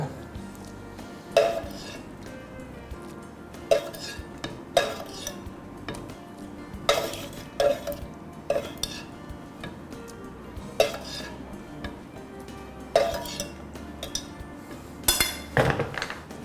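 A utensil stirs pasta into white bechamel sauce in a pan, giving irregular metallic clinks and scrapes against the pan, spaced a second or two apart, over a low kitchen hum.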